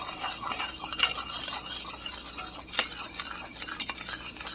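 Spoon stirring Maggi seasoning into a pan of shrimp and grits, a steady scraping and clinking with a faint sizzle beneath, close and moderately quiet.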